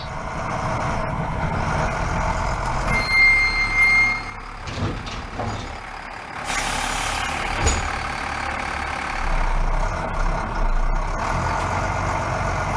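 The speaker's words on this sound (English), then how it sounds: "Falk boards the number 17 bus" A number 17 city bus in a transit system, a heavy vehicle sounding steady and close with engine rumble, a run of repeated reversing beeps and bursts of air-brake hiss, with no talking.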